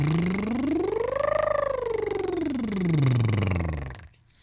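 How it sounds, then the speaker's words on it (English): A singer's lip roll warm-up, a buzzing voiced lip trill that glides smoothly from a low note up to a high peak and back down again, steady and close, ending in a brief silence. "the first thing we're going to work on is called lip rolls"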